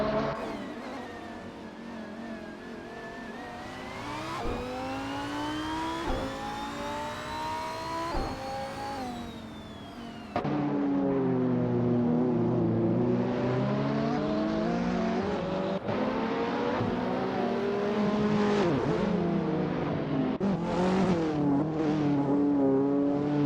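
Supercars race at Seattle Circuit in a racing video game, led by a 2010 Gembala Mirage GT, with engines revving and shifting gears in rising and falling whines, loud and continuous, with no voices.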